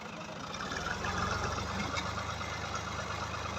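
A tractor engine runs steadily while the tractor is stuck in a ditch, giving a close, continuous low rumble with a rough, knocking idle that holds at an even level throughout.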